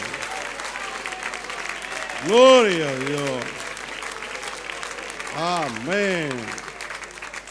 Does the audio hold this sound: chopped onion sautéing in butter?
no